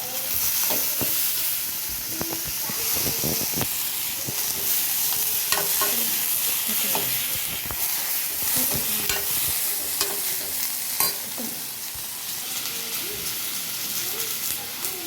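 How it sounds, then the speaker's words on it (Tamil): Four or five tomatoes fry and sizzle in a hot pan for a home dinner, a steady hiss broken by repeated scraping and clinking as a spoon stirs them, fairly close and loud. "ஒரு 4-5 டொமேட்டோ போட்டுக்கலாம். அது நல்லா ஃப்ரை ஆகணும்."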